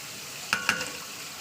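Onions and green chillies frying in hot oil, a constant close sizzle broken by two quick scraping stirs of a spoon in the pan.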